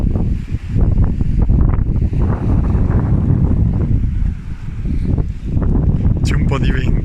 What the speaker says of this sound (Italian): C'è un po' di vento ragazzi.